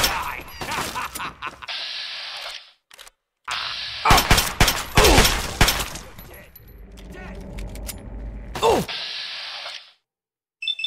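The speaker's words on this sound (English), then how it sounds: "Why does Bethesda have turrets going?" Automated turrets in Fallout 3 firing in rapid bursts, with loud stuttering volleys, pauses of near silence between them, mechanical whirs and creaks, and a voice talking at times.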